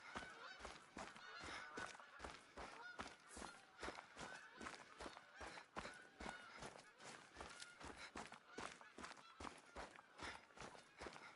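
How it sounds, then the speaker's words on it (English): Geese honk repeatedly in the hunting game The Hunter: Call of the Wild, set in Finland, their calls coming in a steady run alongside rhythmic footsteps through the game world. "I think they're Finnish geese."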